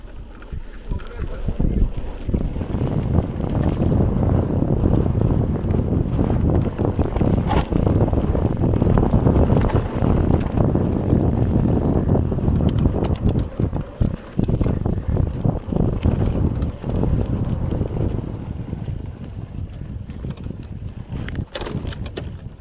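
Heavy wind buffets the microphone while cycling through a forest park near Vynnyky, a loud, continuous rumbling roar with rattling bumps from the ride and occasional speech.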